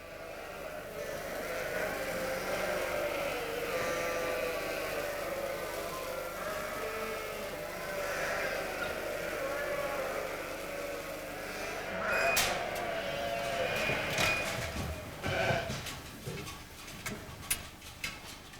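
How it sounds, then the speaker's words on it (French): Lacaune dairy ewes, the breed whose milk makes Roquefort, bleat in a farm setting in the Monts de Lacaune, a dense chorus of overlapping calls at moderate distance, followed by some scattered knocks and clatter. "la race de brebis Laconne, celle qui donne le lait pour la fabrication du roquefort"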